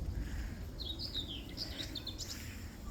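Small birds chirping and singing among tall trees near a house on a morning outdoors, a few high thin phrases over a low steady background rumble, faint and somewhat distant.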